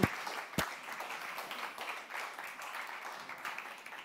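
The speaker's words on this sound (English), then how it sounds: "a big applause for Steve and Greenlist" Audience applause at a livestreamed pitch event for a startup team, a dense, even wash of clapping heard moderately from a distance, with one sharp louder clap near the start.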